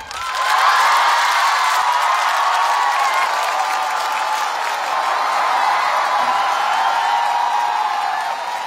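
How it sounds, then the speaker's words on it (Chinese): A studio audience at a televised singing competition claps and cheers in a sustained, dense wave of applause that stays loud and steady from start to finish. "掌声有请。"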